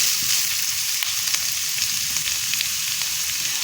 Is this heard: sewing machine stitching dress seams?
no